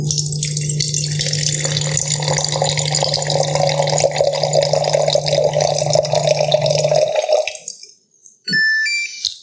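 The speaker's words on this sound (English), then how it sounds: "So let's do a quick pour on here." Water pours from a Waterdrop RO A1 filter dispenser in a steady stream over an electronic hum for several seconds, then stops, followed by a few soft drips and a short beep.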